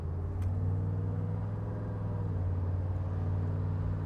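A 1985 Chevrolet G10 van engine rumbles steadily while driving up through the gears, a close, continuous low drone with little change in pitch and no talk.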